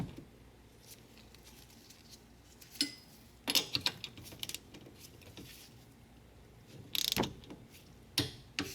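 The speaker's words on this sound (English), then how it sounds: "I hope you heard the torque wrench click" Torque wrench ratchet clicking while tightening a rear brake caliper bolt on a Hyundai Santa Fe to 23 ft-lb, with scattered close mechanical clicks and a few sharper snaps amid quiet pauses, no talking.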